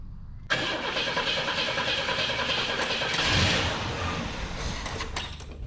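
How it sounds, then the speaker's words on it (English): A 1984 S-10 truck engine being cranked: the starter kicks in abruptly and grinds on steadily for several seconds, loud and close, swelling slightly midway. "She's cranking."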